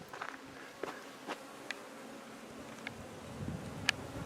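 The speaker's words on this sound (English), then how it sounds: "I heard this weird buzzing noise" A faint, steady buzz from a killer bee nest overhead hums in the background outdoors, with a few soft clicks and light scuffing sounds scattered throughout.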